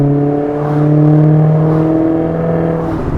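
A 2015 Maserati GranTurismo's engine revs loudly up close, a deep, sustained, harmonic-rich roar that swells and holds with no talking over it.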